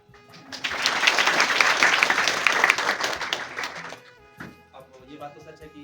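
Classroom applause for a student who won selection to the Ministry of External Affairs: clapping builds quickly, holds steady and fairly loud for about three seconds, then fades into a voice speaking.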